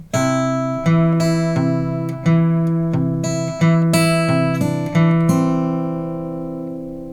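Two slow measures of melody over a bass line on a guitar, about eight cleanly plucked, ringing notes, each allowed to sustain and decay before the next, played alone with no voices.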